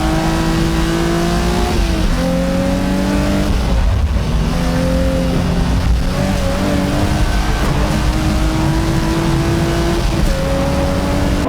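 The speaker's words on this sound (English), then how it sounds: "With Tsuchiya's Amuse Z33 on top, the battle moves on to the final lap" A Nissan Z33 race car howls loudly through repeated upshifts at full throttle on the final lap of a JDM circuit battle, its engine note climbing, dropping at each gear change and climbing again, close and continuous.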